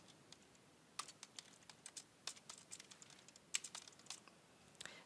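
Someone types on a computer keyboard, with quick, irregular key clicks and taps in bursts, close-up and fairly quiet, with no speech.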